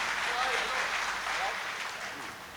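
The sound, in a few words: audience clapping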